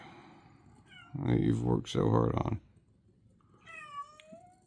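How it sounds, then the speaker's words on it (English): A pet cat meows insistently indoors, with a long drawn-out cry and then a shorter one, loud and close, after a woman's brief speech. "I think my cat wants out."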